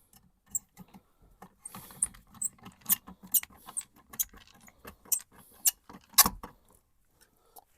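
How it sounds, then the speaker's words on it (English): Screws being tightened back down on a 240-volt electric baseboard thermostat, giving a scattered series of small close clicks, scrapes and ratchety taps with brief pauses between them. "Go ahead and tighten this screw back down."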